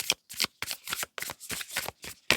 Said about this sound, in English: Just from that deck, just that one card. Just one more shuffle.